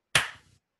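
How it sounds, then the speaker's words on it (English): A single sharp hand clap, loud and close, with a quick decaying tail and no talk. "let me clap"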